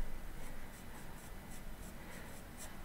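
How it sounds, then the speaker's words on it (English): Lyra Rembrandt B graphite pencil sketching on paper, a faint, close scratching with soft repeated strokes in a steady rhythm, heard alone. "I'm using the B now to see if I can sketch with the B"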